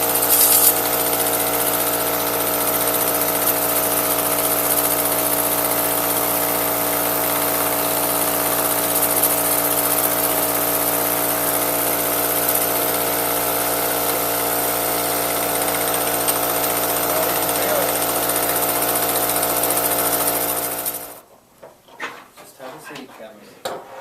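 A small oscillating steam engine run by engineering technology students hums with a steady, even mechanical drone for about twenty seconds, then stops abruptly, leaving faint handling noises.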